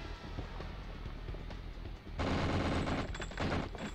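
Enemy gunfire in the PS1 game 007: The World is Not Enough rattles in continuous automatic bursts over a constant muffled game background, getting louder and denser partway through.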